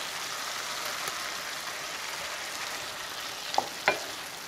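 Shrimp going into a pan and frying in a sauce, with a steady broadband sizzle throughout and two brief louder crackles near the end; no voices.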